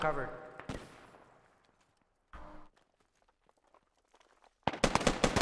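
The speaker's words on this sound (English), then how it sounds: "They're just dumping grenades on this." Grenade explosions and gunfire in the shooter game Operation: Shockwave, sharp blasts and cracks separated by quiet gaps, with a loud cluster of shots near the end.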